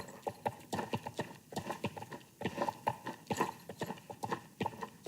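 Hooves of a video game horse trotting, a brisk, even two-beat clip-clop of close, crisp strikes that continues throughout.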